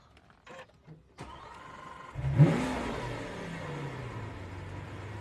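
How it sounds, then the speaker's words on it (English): A Lamborghini Veneno Roadster's V12 is started with a fighter-jet style toggle switch: a few clicks, then the starter cranks and the engine fires into a loud bark before settling into a rumbling idle, close up. "The V12 comes to life."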